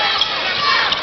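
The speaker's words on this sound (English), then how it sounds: "I think that might be a negative reaction from the crowd" Crowd at a 1992 high school basketball quarterfinal, Compton vs West Valley, reacting negatively with booing: a brief, dense, steady roar of many voices filling a gym.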